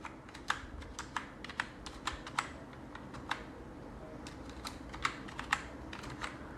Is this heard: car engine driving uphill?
no